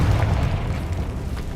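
An explosion spell fires in the Hogwarts Legacy video game, a loud low boom that rumbles and slowly fades over a second and a half, with nothing else heard.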